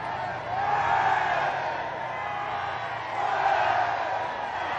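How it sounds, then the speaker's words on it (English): A large outdoor crowd cheers and calls out at a task force salute parade, a steady sustained roar that swells twice, with no clear single voice standing out. "As the Hercules go away to the distance, the cheering begins again."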